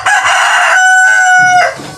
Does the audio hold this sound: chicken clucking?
yes